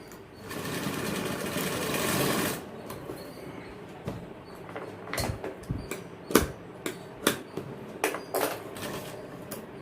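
Sewing machine stitching a second seam on a 34-inch jacket after gold lace is attached, a steady whirring run for the first few seconds, then stops and scattered short clicks and handling knocks.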